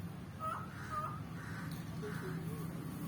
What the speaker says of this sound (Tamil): காக்கா தாண்டா அப்படி கத்துது.